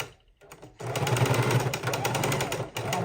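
A sewing machine runs steadily as it double stitches the corners of a fabric soup bowl, starting up after a brief quiet pause and continuing loud and close with a continuous motor whir.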